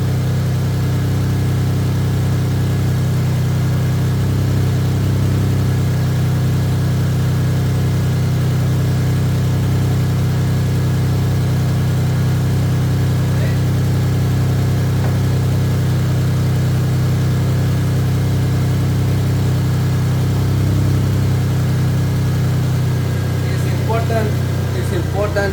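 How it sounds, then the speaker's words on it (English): A 2004 Toyota Tacoma with the 3.4 engine and automatic transmission idling, a steady low rumble close by that holds constant throughout, with faint clinks near the end. "car has been running like for 15 minutes"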